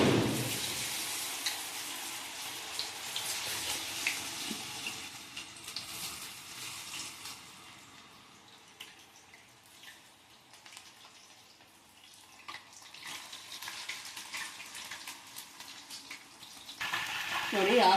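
Soya chunks frying in hot oil in a pan for soya chunks manchurian, giving a steady broadband sizzle that runs throughout, swelling loud at the start and end and easing in the middle, with no talk.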